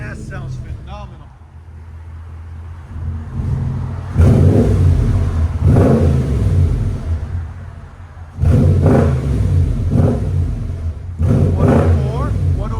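A 2013 Mercedes G550's 5.5L V8 through a Flowmaster Flow FX true dual exhaust idles with a low burble, then blips in several loud, close revs, each swelling into a deep roar and settling back, with voices talking between them.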